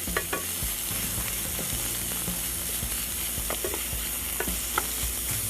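Chicken pieces and the white parts of green onions fry in a pan with a steady, close sizzle and occasional stirring clicks from a utensil, with no talking.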